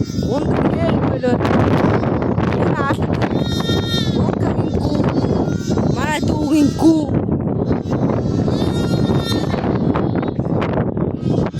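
Newborn lambs and sheep bleat repeatedly on a livestock farm in Mongolia, a loud, close chorus of overlapping cries over wind noise and ongoing talk.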